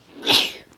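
A single sharp, breathy sneeze from a person bursts out close and loud, rising quickly and fading within a second.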